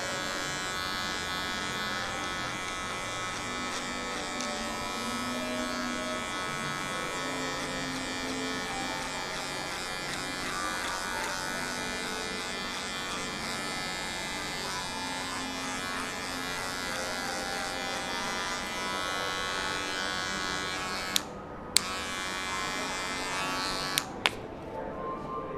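An electric hair clipper with a number 2 guard cuts hair for a fade, its motor buzzing steadily and close throughout, with a couple of brief clicks and drops near the end.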